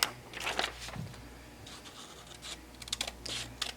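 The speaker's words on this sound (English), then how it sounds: "Now I'm just going to cut these out." Scissors cutting out small paper mini bibles: close, crisp snipping and scratchy paper rustles in irregular bursts, some louder clusters near the end, with no talk.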